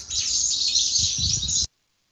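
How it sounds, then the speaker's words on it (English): Birds chirp densely in a forest, a bright continuous chorus of high tweets over a low rumble, cutting off abruptly into silence after under two seconds. "You hear birds chirping and it gives you pleasant feeling about the health."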